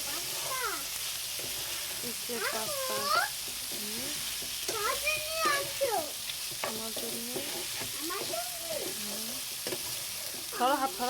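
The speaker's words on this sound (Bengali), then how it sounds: "এবার আমি সুন্দর করে পাস্তাটা নাড়াচাড়া করে টমেটোর লগে মিক্স করে নিব" A pasta and tomato mixture being stirred in a frying pan, with a steady sizzle and scraping under intermittent high, meow-like cries.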